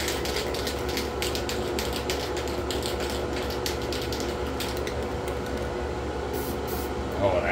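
Spray paint hisses steadily from a can nozzle onto a 1957 Cadillac Eldorado Brougham scale model in a paint booth, a continuous close spray with faint mechanical clicking throughout.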